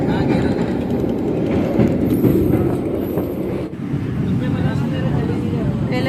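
A passenger train running along the shore on the way to Rameswaram, heard from on board as a steady loud rumble with faint clatter from the carriages and a little background chatter.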